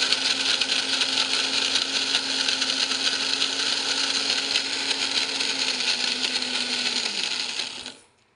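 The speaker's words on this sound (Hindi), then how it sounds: "अब गरी को ग्राइंड करूँगी।" A kitchen mixer grinder whirs steadily as it grinds coconut for gond laddu, a loud continuous high-pitched motor drone that holds for about eight seconds and then cuts off and winds down.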